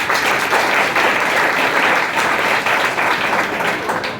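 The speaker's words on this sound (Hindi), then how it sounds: "मिथिलेश कुमार के लिए एक बार फिर जोरदार ताली." Steady, loud audience applause at a prize-distribution ceremony for 2023 toppers, honouring Mithilesh Kumar; dense clapping holds unbroken for about four seconds before easing slightly at the end.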